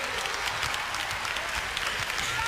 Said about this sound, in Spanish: Un gran aplauso para Stefan Kramer